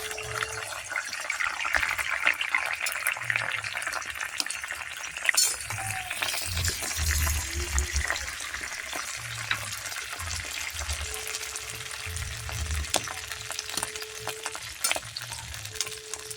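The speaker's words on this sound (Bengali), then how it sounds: "একে একে 3টি ডিম ফাটিয়ে ভালো করে ভেজে ঝুড়ো করে নিলাম।" Eggs sizzle and fry in a wok with a little white oil while being stirred and scrambled, a steady close crackle running throughout with occasional scraping stirs and no voices.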